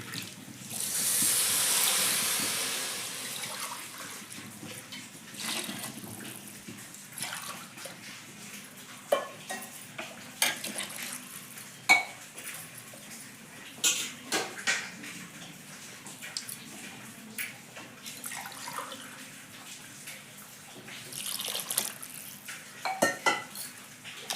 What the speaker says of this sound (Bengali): চার গ্লাস জল দিয়ে দেবো